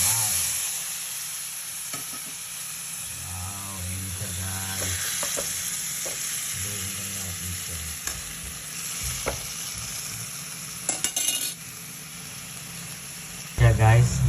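Squid tossed into a hot pan with tomatoes for spicy adobong pusit sizzles steadily, with stirring scrapes throughout and a person talking over the frying.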